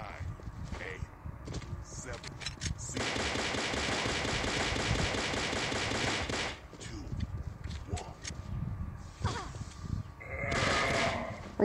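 Glock pistol gunfire in the mobile shooter CrossFire, heard as a dense, sustained burst of rapid shots for about three and a half seconds, followed by scattered single shots and game effects while a voice talks throughout.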